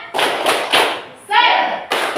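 A classroom of schoolchildren does a rhythmic 'tepuk semangat' clapping chant: a few loud, sharp claps in a steady beat, then a short shouted group chant, then another clap.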